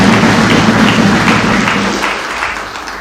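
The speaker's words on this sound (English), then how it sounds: "Let us a round of applause." A dense round of applause from an audience at a regional symposium on greening judiciaries in Africa: many hands clapping loudly and continuously, then slowly fading toward the end.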